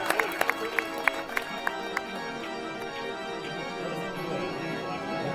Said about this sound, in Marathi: वाडा संघासाठी पुन्हा एकदा पुनश्च जोरदार टाळ्या